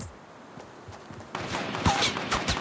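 Gunfire in Fortnite, a few sharp shots and crackling bursts growing louder in the second half over faint game ambience.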